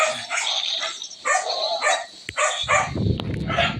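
A Siberian husky barks and yips in quick bursts in a Call of Duty video game, close and fairly loud, with a short whimpering edge between barks.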